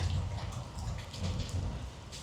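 Rain falls outdoors during a week of flooding downpours in Malaysia, a soft, steady patter heard at a low level with a gentle, uneven texture.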